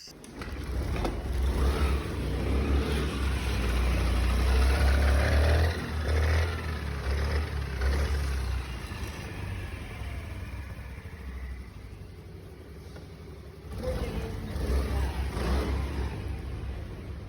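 A Honda Activa scooter engine after a full engine rebuild starts up, idles and revs in a workshop, a loud, close engine note that rises and falls through several throttle blips with no talking.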